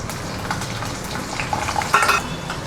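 Chopped ginger and garlic sizzle and spit in hot oil, with a few light clinks of a utensil stirring the pan.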